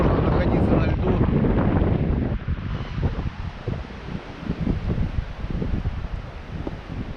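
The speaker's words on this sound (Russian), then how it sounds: "Ветер просто сдувает." Strong wind gusts over open ice on a frozen lake during winter ice fishing, a loud roaring buffeting that hammers the microphone, heaviest early on and then easing into a steadier rushing blow.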